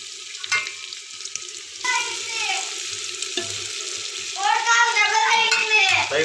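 Tomato pieces sprinkled with salt fry in a pan, giving a crackling sizzle broken by several stirring scrapes and bursts of spattering that grow louder toward the end, with no talk over it.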